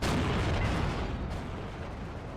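Heavy gunfire and booming explosions from an HE gun in the World War II strategy game Steel Division 2, a dense continuous roar of blasts with no gaps, loud and filling.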